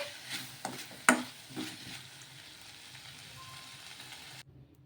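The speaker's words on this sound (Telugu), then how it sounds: "ఇప్పుడు లాస్ట్లో కొంచెం కొత్తిమీర కూడా వేసుకొని ఒకసారి బాగా కలిపేసుకొని" Coriander is stirred into a cooked mixture in a pan, with a few scraping strokes and a soft sizzle early on that then settle into a quiet hiss.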